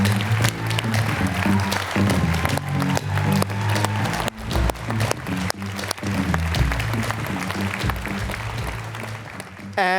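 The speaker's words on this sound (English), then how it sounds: "I'd love to bring our speakers back up on stage for a massive round of applause" An audience at the Canva Create 2022 conference applauds as speakers return to the stage. The clapping is loud, dense and sustained throughout, with music playing underneath.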